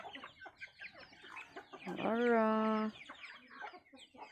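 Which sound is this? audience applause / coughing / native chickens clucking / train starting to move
native chickens clucking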